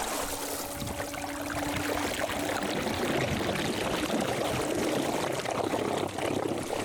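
An electric solar boat's propeller churns and gurgles too close to the sea surface, a continuous loud sloshing, bubbling rush with no pauses.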